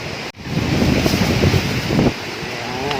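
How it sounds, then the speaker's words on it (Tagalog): Strong wind buffets the microphone outdoors near a pili nut tree in the Philippines, a loud, rough low rumble in gusts with a brief dropout, then steady blustering. "Lakas po ng hangin."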